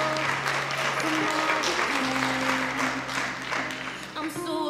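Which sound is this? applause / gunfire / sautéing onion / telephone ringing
applause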